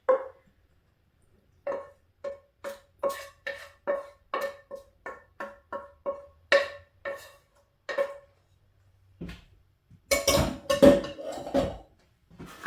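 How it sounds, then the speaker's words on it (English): Ground beef being put into a casserole dish: a long run of sharp, evenly spaced clinks and scrapes, close and fairly loud, with a pause and then a denser burst of clatter at the end. "I'm going to put my ground beef into my casserole dish."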